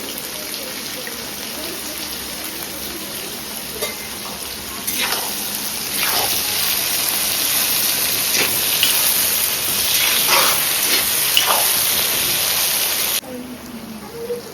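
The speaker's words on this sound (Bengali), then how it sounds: "তেল গরম হয়ে গেছে এখন এই পেঁয়াজগুলো দিয়ে দেব" Onions dropped into hot white oil in a wok for biryani give a steady, close hiss that swells louder partway through and holds as a dense sizzle before easing near the end.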